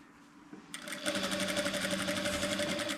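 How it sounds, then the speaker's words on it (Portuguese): Stitching an apron seam, a sewing machine starts up after a brief pause and runs in a quick, steady, close rhythm with no voices present. "Faço a costura para que eu possa ter firmeza, porque é uma peça que vai ficar sendo amarrada"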